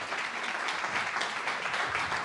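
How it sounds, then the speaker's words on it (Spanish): Audience applause welcoming a guest onto a stage at an olive oil talk, a full, even burst of many people clapping that sustains without pause, fairly close and moderately loud. "vamos a recibirle, como no, con un fuerte aplauso"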